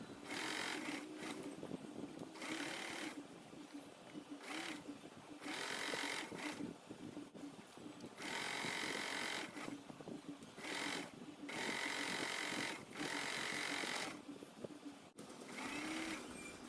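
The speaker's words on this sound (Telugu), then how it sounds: "బ్లౌజు ఫ్రంట్ పార్ట్ని కూడా లైనింగ్ క్లాత్తో అటాచ్ చేయాలి." A sewing machine runs in repeated bursts of rapid stitching, attaching a blouse front to lining cloth, each run of a second or two broken by short pauses, close and clear with no talk.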